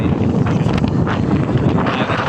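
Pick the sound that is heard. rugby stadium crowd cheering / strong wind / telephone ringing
strong wind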